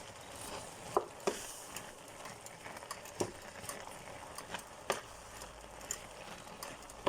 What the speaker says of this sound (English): We're going to mix them in and saute them.